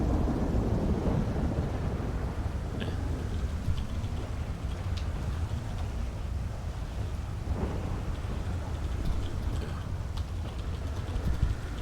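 Thunderstorm ambience inside a roleplay video game, a steady loud wash of rain and wind with low rumbling thunder running throughout.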